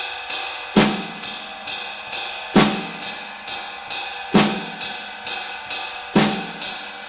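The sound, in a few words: drum kit ride cymbal, hi-hat and snare pattern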